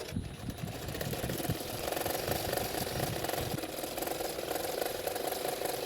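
A sewing machine stitches along the edge of a frock sleeve with a steady, fast mechanical chatter, running continuously and close for the whole stretch.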